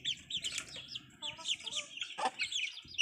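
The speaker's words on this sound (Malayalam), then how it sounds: "നാടൻ കോഴിയുണ്ട്, കരിക്കോഴി കുഞ്ഞുങ്ങളുണ്ട്," Native and black chickens, including chicks, cluck and cheep close by in a continuous busy chatter of overlapping calls.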